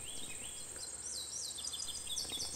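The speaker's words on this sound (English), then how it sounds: "The birds you're hearing are the birds I heard when I did this video." Several birds chirp and trill high and clear outdoors in open pasture land near a pond, overlapping calls against a soft, steady background hiss.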